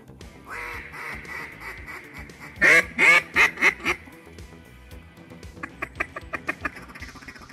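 Mallard ducks quack from a duck-hunting spot at first light, loud bursts of several quacks close together, then a quicker run of fainter quacks, over low background noise.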